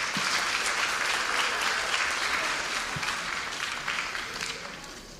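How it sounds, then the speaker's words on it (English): At a fall athletic banquet the audience applauds the girls tennis team, a broad, busy patter of many hands that stays full and then slowly tapers in loudness. "To give a round of applause to our girls tennis team."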